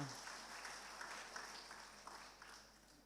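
Faint, even applause from a church congregation during a Sunday service of the GKPS Depok Simalungun-language worship, a soft wash of many hands clapping for about three seconds and fading slightly at the end.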